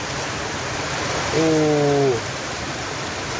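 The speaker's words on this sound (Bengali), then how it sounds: "ফাঁ করে বৃষ্টি চলে আসছে একদম" Heavy rain pours onto an open courtyard as a steady, dense hiss, briefly overlaid by a short sung or hummed voice in the middle.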